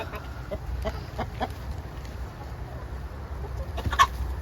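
Chickens cluck softly and intermittently nearby, with a few sharper calls standing out over a low background rumble.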